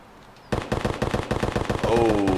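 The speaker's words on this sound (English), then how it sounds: "Oh, lots of gunfire." Rapid bursts of automatic gunfire in the video game Escape from Tarkov, a dense rattling volley of close shots that starts abruptly and keeps going, ending under a rising tonal whine.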